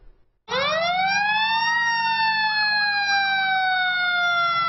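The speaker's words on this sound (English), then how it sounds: "Fire truck sirens filled the Eells neighborhood as Santa led a procession for a Christmas Eve surprise" A fire truck siren sounds during a Santa-led Christmas Eve procession through a New Jersey neighborhood. It rises quickly into a loud, close, steady wail that holds, with no voices.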